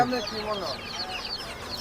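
Desi chickens at a busy poultry market in Hemayetpur cluck repeatedly at close range, a lively run of calls over a murmur of people talking.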